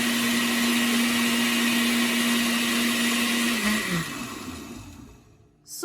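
Blender whirring through beetroot with lemon and a little water, a loud steady motor drone that holds, then winds down and fades near the end, followed by a brief clatter.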